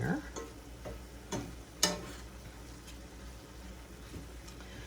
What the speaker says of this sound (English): Stir that all in there.